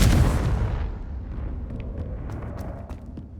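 A Confringo spell explosion in the video game Hogwarts Legacy bursts loudly at the start as a heavy, booming blast, then fades into a long rumbling tail with scattered faint crackles.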